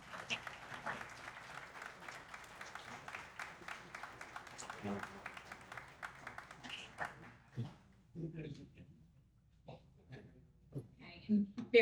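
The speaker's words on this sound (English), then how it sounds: "One more round of applause." Audience applause at a Memorial Day breakfast, a sustained wash of clapping from a roomful of people that thins out into scattered claps and murmured voices near the end.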